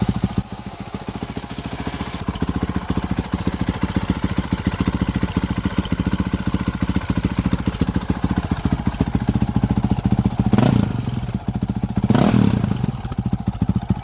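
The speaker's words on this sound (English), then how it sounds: "let's hear this bad boy start." A motorcycle fitted with a full Yoshimura RS4 exhaust and no ECU tune cranks over and runs with a fast, clattery engine pulse throughout, plus two brief louder bursts near the end.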